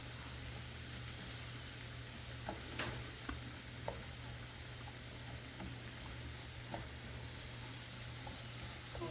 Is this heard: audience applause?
no